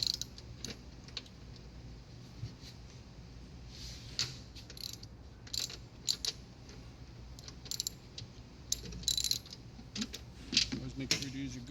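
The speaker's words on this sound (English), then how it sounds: "Make sure to use your good ratchet." A ratchet wrench turning a bolt on a Honda Pilot during lift kit work, with quiet intermittent clicking and metallic ticks in short runs, close by but soft.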